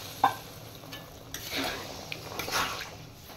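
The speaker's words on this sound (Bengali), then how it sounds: "এদিকে তরকারিটা ফুটছে" A vegetarian potato curry bubbling in a pan after hot water is added, heard as a soft, uneven simmer with light utensil clinks and stirring, moderately close and without talk.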